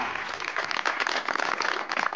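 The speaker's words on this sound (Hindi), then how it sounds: "तालियां तालियां" Comedy show audience applauding, a short, steady burst of many hands clapping at moderate distance.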